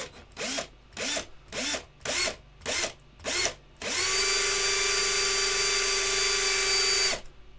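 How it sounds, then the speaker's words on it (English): A drill starts and stops in six short whirring bursts, then runs steadily for about three seconds with a high, strained whine before cutting off, boring into a resin model kit. Close and loud. "The bigger the drill, the more friction."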